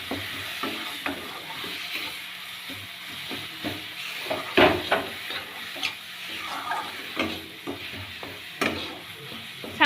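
Dry spice powders such as chilli powder frying in oil in a pan for tilapia curry with beans and potato, a steady broad sizzle with repeated scraping stirs and occasional louder clatters of the spoon against the pan, no voices.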